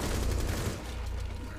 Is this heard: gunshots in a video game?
yes